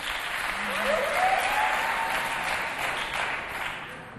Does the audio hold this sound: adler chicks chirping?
no